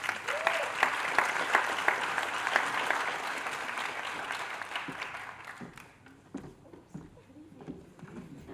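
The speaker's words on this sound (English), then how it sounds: "Let's give them a round of applause, please." A school board meeting audience applauds student performers, full clapping for several seconds that thins and fades out, followed by scattered sounds and quiet movement.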